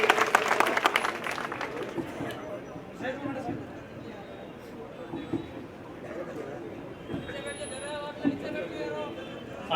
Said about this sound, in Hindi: जोरदार तालियों से एक उभरते हुए छोटे भाई के लिए।